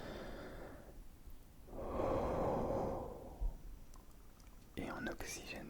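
Slow, close breaths in a quiet setting: a long, airy inhale swells and fades, followed by softer breathy exhales and a brief rustle near the end.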